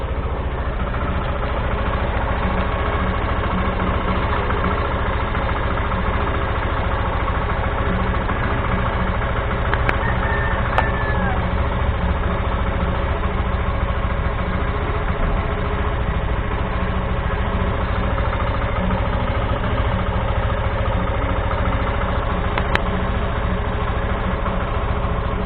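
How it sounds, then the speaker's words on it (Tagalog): A 2016 Yamaha FZi motorcycle engine idles steadily throughout, a constant close, even engine hum with no breaks and a couple of faint ticks. "Check po natin sa engine."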